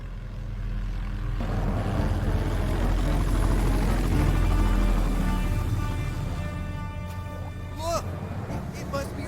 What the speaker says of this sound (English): It's a helicopter. It's the sound of a helicopter.